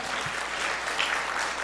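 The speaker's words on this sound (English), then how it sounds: "Can we give a round of applause?" A conference audience at a Quezon City future-of-work event gives a brief, dense round of applause, steady and moderately loud throughout with no talk over it.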